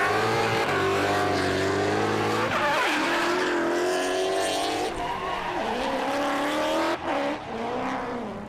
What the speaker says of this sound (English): We might just let Fanger's car sing.